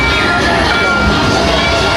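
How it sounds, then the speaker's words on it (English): A ride train pulls in at Mickey and Minnie's Runaway Railroad theme-park attraction, a steady broadband rumble blended with crowd murmur and echoing station noise throughout. "Here comes our train."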